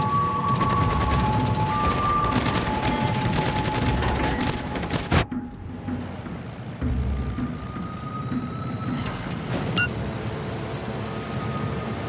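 Rapid gunfire rattles through a naval combat battle in Kraken Unleashed, dense repeated bursts over a steady engine-like drone, then a sharp crack and quieter intermittent reports with a tonal hum.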